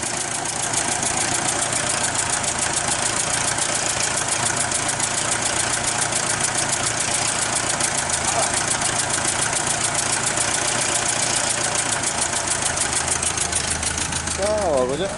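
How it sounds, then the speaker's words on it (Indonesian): A 1993 Mazda Vantrend's engine idles steadily, a continuous mid-pitched mechanical hum with a fine ticking knock running through it, recorded close to the engine with no talk. "kalian bisa cek dan dengar suara mesinnya ya"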